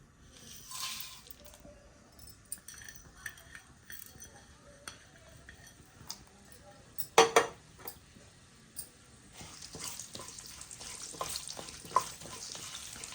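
Dry red chilies, mustard seeds and urad dal fry in oil in a pan for gongura pickle, with a soft crackling sizzle, scattered pops and several sharp metallic clinks and stirring scrapes.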